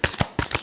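Tarot cards shuffled in two quick crisp bursts of riffling, close and distinct, with no voice.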